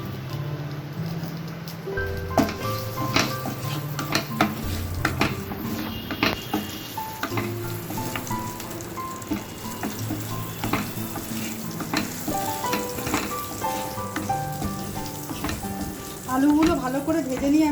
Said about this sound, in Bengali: আলুগুলো ভালো করে ভেজে নিয়ে আমি তুলে নেব